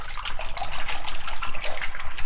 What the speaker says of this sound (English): Add it to the water, and we're going to swish it around.